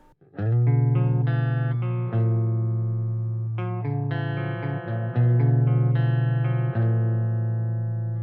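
Electric guitar played through a Randall RH300 G3 amp on the green channel with all controls at noon and no reverb, sustained distorted chords ringing out one after another, loud and dry with no talking.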